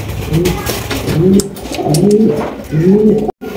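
Pigeons at a pigeon farm coo in repeated throaty, rolling phrases, close and loud, with a few brief pauses between calls.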